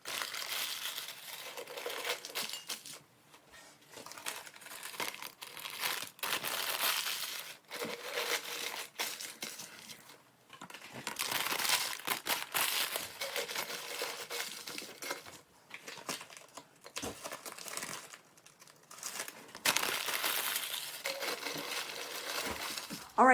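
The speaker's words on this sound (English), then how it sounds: "We're going to grab our coffee filters." Paper coffee filters being grabbed and crinkled by hand for a soil experiment, close and continuous bursts of crackling and rustling with short pauses between handfuls.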